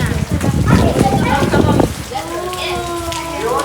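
Heavy rain pouring all around: a dense, loud hiss of falling water for about two seconds, then it softens under a voice.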